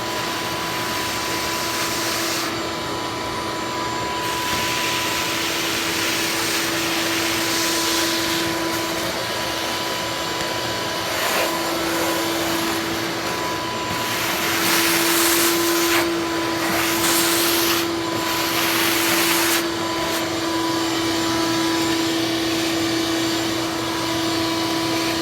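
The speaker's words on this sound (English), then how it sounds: "gonna turn on the vacuum cleaner" Shop vacuum cleaner running steadily in a workshop, sucking up body filler dust while bodywork is done on a 1950 Plymouth door; a constant loud whine and airy roar with slight surges, no talking.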